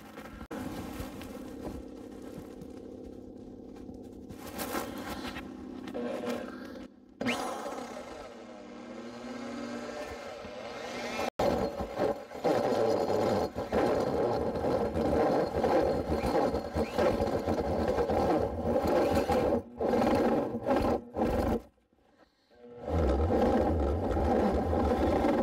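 A DeWalt power tool cuts out a clamped board with a sustained motor whine and rough buzzing that rises and wavers, broken by brief pauses and one short drop near the end.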